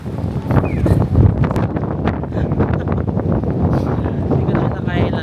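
Strong cold wind blows in Sapporo, Japan, a loud continuous buffeting roar against the microphone that lasts throughout, with no clear talk over it.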